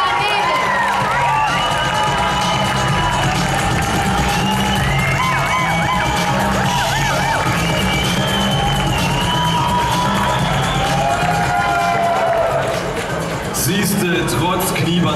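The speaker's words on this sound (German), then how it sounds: "da geht der Glückwunsch und ihr Applaus an die Startnummer 10, an Johanna." A Miss Germany pageant audience cheers and whoops in a large hall, a continuous crowd roar running through with a presenter talking over it and shouts rising near the end.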